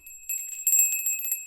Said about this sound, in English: Where's my chakra bell?